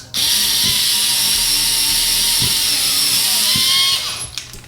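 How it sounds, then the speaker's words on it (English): Small Fantic cordless screwdriver running steadily and loudly for about four seconds, driving screws while a ceiling fan fixture is hung, then winding down and stopping. "It's a little Fantic cordless screwdriver."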